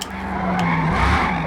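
Tires of a drifting 2018 TVR Griffith in Forza skid and squeal on Maple Valley's track, a loud continuous screech over a throaty rear-wheel-drive engine, sustained without a break.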